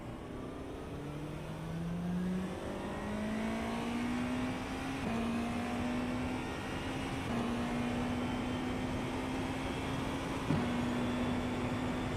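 Race car engine in the iRacing sim during a rain session, a steady droning whine that climbs in pitch through each gear with brief shift breaks, continuous and moderately loud without talk.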